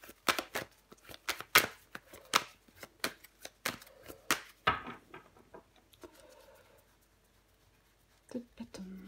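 Tarot cards are handled and laid down on a table in a quiet room: a rapid series of crisp slaps and flicks, then softer shuffling rustles and a few final taps, all close and with no voices over them.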